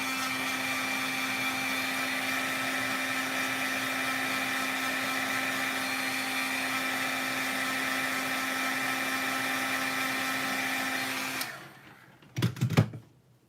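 A heat tool blows steadily and loudly for about eleven seconds while drying a handmade card, with a constant whirring hum, then cuts off, followed by a couple of brief handling bumps.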